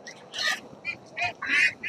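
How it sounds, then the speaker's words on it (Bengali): Ducks at the Magrahat poultry market quack in several quick, close bursts, loud and nasal, with short gaps between calls and no talking. "এখানে দেখুন হাঁসের বাচ্চাও রয়েছে"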